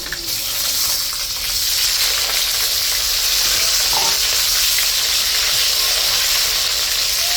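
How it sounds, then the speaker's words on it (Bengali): Potatoes fry in hot oil for a katla fish curry, a loud, continuous hissing sizzle that holds steady throughout. "মাছ রান্নার জন্য আলু ভাত দিয়ে দিলাম আলুটা ভাজা ভাজা হইলে"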